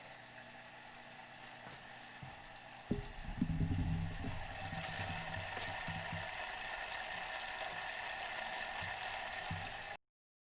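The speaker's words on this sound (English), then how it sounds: "Mine's bubbling a lot." Pumpkin oat cookie mixture bubbling in a pan, a steady close sizzle and liquid bubbling that swells after a bump and continues evenly until it cuts off.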